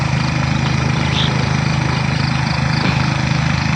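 The engine of a motorized sprayer drones steadily and close by while spraying calamansi trees, a continuous mid-pitched hum with no pauses.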